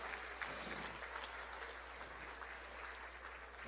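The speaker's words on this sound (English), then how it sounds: "Please give them a big round of applause" Audience applause for temple donors at a 25th anniversary celebration, a steady wash of clapping from a large crowd that holds evenly throughout without a break.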